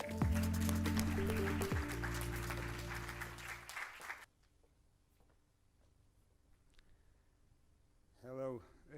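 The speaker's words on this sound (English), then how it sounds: "Let us give them a big round of applause to Dr. Vasco Bettencourt." Audience applause greets the speaker at the opening session of a pharmaceutical congress, a loud sustained round of clapping lasting about four seconds and then cutting off abruptly into a quiet room.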